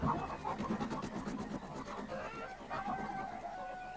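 Chickens clucking in quick, repeated bursts, close and fairly clear, with a short squawk partway through and a busy farmyard background.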